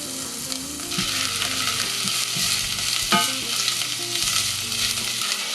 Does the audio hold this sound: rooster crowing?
no